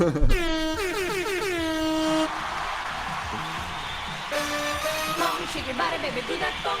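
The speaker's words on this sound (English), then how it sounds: "Let's get an air horn, Cosmic. Let's get that air horn in." A loud air horn sounds twice in sustained blasts, with rising harmonic sweeps, over background crowd noise and chatter.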